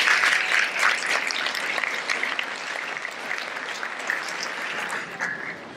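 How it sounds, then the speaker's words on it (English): Audience applause at a school letter ceremony honoring parents, a steady dense clapping from a crowd sustained throughout, fairly close and loud with no talking over it. "let's have a round of applause to thank our parents"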